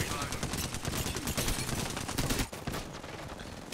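Rapid gunfire in the Apex Legends shooter, with dense bursts of shots cracking in quick succession, a short pause, then a few more shots, loud and close.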